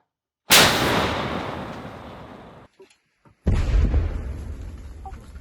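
A single heavy artillery blast booms close by and decays over about two seconds, followed after a brief pause by loud rumbling, wind-like noise.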